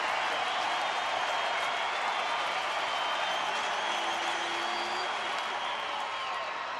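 A packed baseball stadium crowd of about 29,000 stands and cheers during a Blue Jays at Rangers game, a dense, steady roar of applause and shouting that holds without a break, heard from a distance with no clear voices on top.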